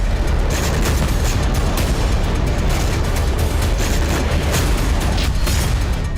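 Explosions from a Hezbollah rocket attack on Israeli soil make a loud, continuous roar of dense booming and crackling that never lets up, with no voices heard.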